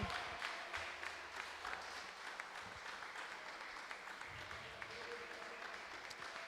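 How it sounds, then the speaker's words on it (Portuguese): A church congregation applauds the Lord during a celebration service, a sustained, fairly distant patter of many hands clapping with scattered sharper claps and faint voices underneath. "Aplauda ao Senhor."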